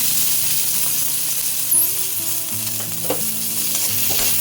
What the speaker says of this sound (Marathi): हे भाजण्यासाठी पटकन होण्यासाठी मी एक पळीभर तेल घालते याच्यामध्ये।